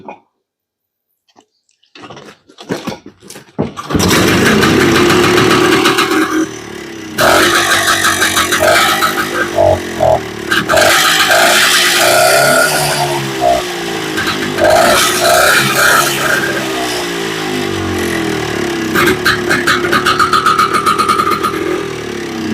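An old barn-find Boa Ski snowmobile engine being cranked, sputtering a few times, then catching and running loud and rough with uneven revs for a long stretch, close by and without talk.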